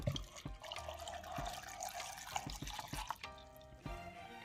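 Water pouring over chopped radish pieces in a blender jar, a steady liquid trickle with soft drips and splashes, close and moderately quiet, with no talking.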